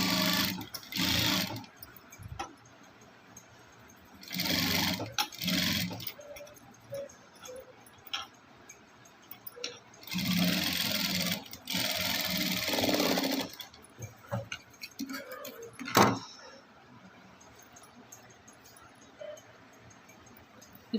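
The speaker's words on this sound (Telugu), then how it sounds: "పైనుంచి నేను ఇలాగా కినారి కుట్టు వేసుకొస్తానండి" A sewing machine runs in several bursts while stitching a kinari border along a boat-neck cotton blouse, with loud whirring runs separated by quieter pauses and a few sharp clicks.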